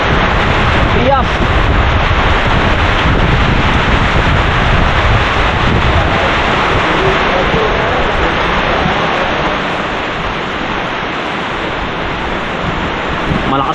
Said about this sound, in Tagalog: Malakas po ang ulan ngayon.